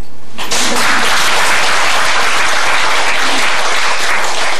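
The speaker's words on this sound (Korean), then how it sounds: "박수" Loud, sustained applause from an audience at a Buddhist lecture hall, dense clapping filling the whole stretch after a brief quiet start.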